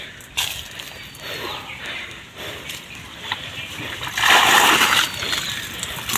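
Fish thrash in a fishing net lifted from a ticketed fishing pond, making close, loud splashing and water spatter in uneven bursts, strongest near the end.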